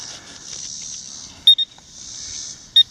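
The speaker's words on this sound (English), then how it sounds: "somebody's talking to me on my phone" A mobile phone gives short, sharp notification beeps, a quick double chirp and then a single one, clear over faint outdoor hiss during a metal detecting outing at an old motel site.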